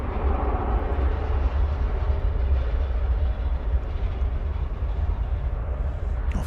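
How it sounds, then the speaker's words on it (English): An American Airlines Airbus A321 jet at DFW Airport gives a steady, loud engine rumble and roar, constant throughout with no other sounds. "We have, for your aviation enjoyment, an Airbus A321. This is American Flight 2473."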